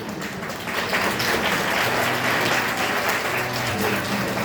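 An audience at a magic show claps in steady, dense applause that fills the whole stretch without a break.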